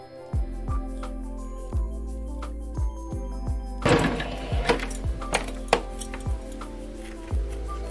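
A sewing machine stitching fabric for a cutlery case with a napkin pocket: a steady motor hum with regular mechanical thumps, close and loud, the stitching getting busier halfway through.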